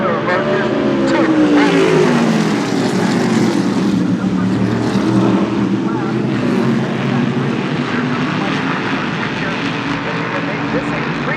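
Modified race cars battle on the Stafford Speedway oval, a dense, loud roar of several engines droning together for many seconds, rising and falling slightly as the pack circulates, with a commentator talking over it.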